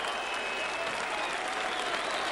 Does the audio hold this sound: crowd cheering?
yes